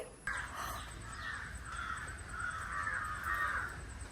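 Crows cawing repeatedly in the morning in a steady series of harsh calls, fairly close, over a low background hum with no talking.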